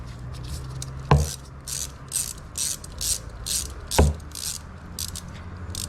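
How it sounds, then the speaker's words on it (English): A ratchet loosens 8mm fairing bolts on a KTM RC 390 motorcycle. Repeated rapid clicking bursts come in an even rhythm, close and clear, broken twice by sharp metallic knocks. "I'm taking this fairing off so I can get access to the oil filter there."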